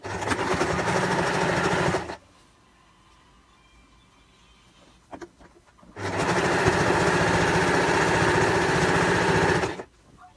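A sewing machine backstitches a patchwork strip for a quilt, running in two loud, fast, continuous bursts separated by a quiet pause with faint handling noises.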